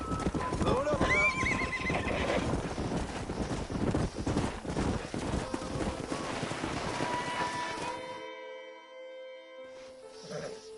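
Horses in a Western video game whinny loudly and their hooves clip-clop at a busy, uneven pace, then the hoofbeats stop and a clear neigh rings out near the end as someone speaks over the sounds.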